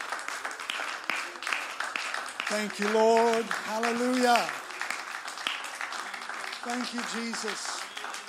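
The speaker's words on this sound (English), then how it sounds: "Lift your voice and hand clap today." Church congregation at Aspire Church clapping and praising together, a dense wash of hands under sung and spoken worship voices, with a loud peak in the middle before easing back.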